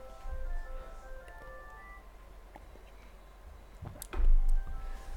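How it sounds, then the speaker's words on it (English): A thin electronic melody chimes faintly, like a phone ringtone, over the low rumble of a racing game, followed by a few clicks and a louder thump. "As you can hear, the phone's going off."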